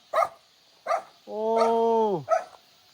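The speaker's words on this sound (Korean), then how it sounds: "왜 그렇게 짖으십니까?" A dog at a remote mountain house barks in short, loud bursts, with one long, drawn-out howling bark in the middle, close to the microphone with no talk over it.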